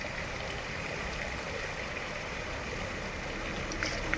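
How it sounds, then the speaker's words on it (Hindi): Natural spring water flowing steadily beside an unpaved mountain footpath near a Himachal village, a continuous soft rushing and trickling wash with no pauses, close by and fairly quiet. "ये नेचुरल पानी निकल रहा है"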